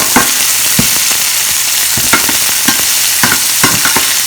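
Red chilies, green chilies and cilantro sizzle loudly in a pan for idli upma, with repeated scraping stir strokes at an uneven rhythm, close up and with no talking.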